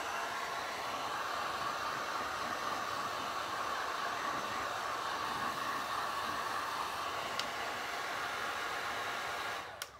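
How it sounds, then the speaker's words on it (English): A heat gun blows a steady, even, breathy roar close by while it warms a wood appliqué mold, running without a break until it cuts off near the end. "The only thing about the heat guns is you do have to just keep them moving."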